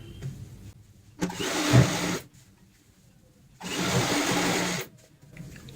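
A sewing machine stitches a seam on a pillow cover in two short runs, each about a second long, separated by a quiet pause while the fabric is turned. The whirring is close and fairly loud, with no talking.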